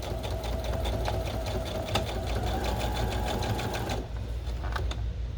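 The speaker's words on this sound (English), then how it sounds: "that's where I like to keep my eye when I'm sewing, is at the edge of the presser foot" A sewing machine stitches a seam along the edge of its presser foot while sewing a costume, a loud, close, rapid mechanical chatter of the needle that runs steadily and then eases near the end.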